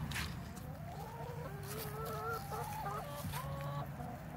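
A flock of chickens clucking in a farmyard in the morning, a string of soft, faint clucks and murmuring calls over a low, steady background hum, with no talk.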